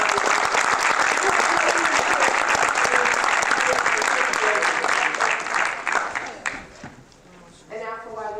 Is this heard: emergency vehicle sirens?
no